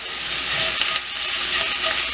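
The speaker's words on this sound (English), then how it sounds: "I'm just going to cook it up in this frying pan" Meat sizzles and crackles steadily in a frying pan on the stove, a close, continuous frying hiss with no talking.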